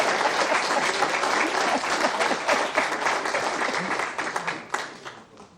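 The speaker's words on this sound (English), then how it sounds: "Jeffrey's clapping" Warm, sustained applause from a lecture audience at a chemistry lecture, many hands clapping close and full, slowly thinning and tapering off toward the end with scattered final claps.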